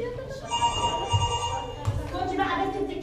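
A telephone bell ringing in repeated trills during a staged church fundraising comedy play, with people talking over it.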